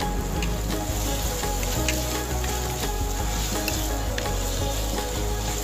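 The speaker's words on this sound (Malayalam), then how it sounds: "ഇനി ഇതിലേക്ക് ഇഞ്ചി, വെളുത്തുള്ളി, ചെറിയ ഉള്ളി പേസ്റ്റ് ഇട്ട് കൊടുത്ത് നന്നായി വഴറ്റിയെടുക്കുക." Ginger, garlic and small-onion paste sautéing in a pan for a Kerala-style fish curry, a continuous even sizzle and crackle of frying throughout, with no voices.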